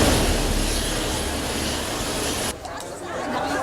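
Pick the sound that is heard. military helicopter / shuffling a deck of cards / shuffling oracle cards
military helicopter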